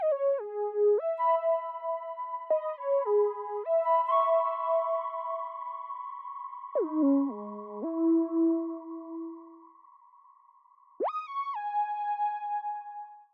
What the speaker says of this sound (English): the most noticeable melody is a little like sine lead that comes in